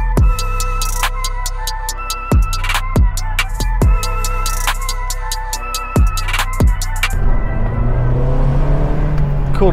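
An Abarth 595 Turismo with a manual gearbox revs up hard through several gears, each climb cut off by a quick shift. The engine then eases off into a lower, falling drone, loud and close from inside the car.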